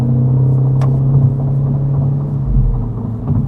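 Inside a Mini Cooper JCW accelerating in sport mode with an automatic gearbox, a loud, deep, steady engine drone and road rumble fill the cabin without any voices.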